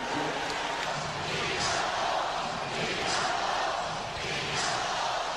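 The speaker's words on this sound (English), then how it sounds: "The chant is beat the Bulls, beat the Bulls." A dense basketball arena crowd at the Delta Center roars steadily with rhythmic swells, chanting "beat the Bulls" like a distant repeated chant, loud and continuous throughout.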